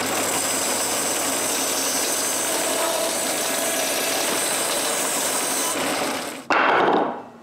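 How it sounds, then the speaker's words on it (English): A power saw cuts through glued-up wood to round off two wheel blanks, a continuous loud whine lasting about six seconds, then a sharp clunk and a brief rougher burst as it finishes. "Then I cut both wheels so they won't be as squarish."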